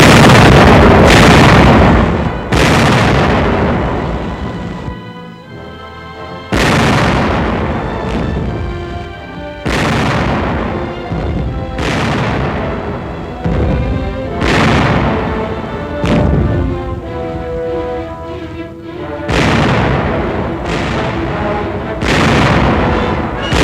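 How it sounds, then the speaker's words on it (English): Tank guns firing direct fire at obstacles in 1944 wartime footage: a series of loud, sharp booming blasts, roughly ten of them at irregular intervals, each followed by a rumbling decay. "By direct fire, trained armored force gunners clear obstacles for their infantry teammates."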